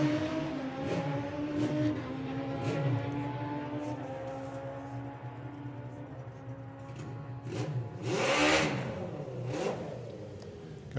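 Carl Thomas's 950 drag racing motorcycle at the STP Sportsman Nationals, its engine loud and raspy through a steady high-rpm run, with rising harmonic sweeps and a sharper blast of noise near the end.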